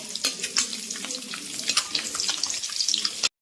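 Eggs frying in a pan for a Kerala-style egg roast, a steady crackling sizzle with sharp pops and spatter running throughout, fairly close, then cutting off abruptly.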